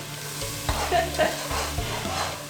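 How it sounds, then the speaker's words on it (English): Blended garlic and onions fry in hot oil, a steady close sizzle with stirring scrapes and a couple of louder bursts of spitting over about two seconds. "into the hot sizzling oil with onions"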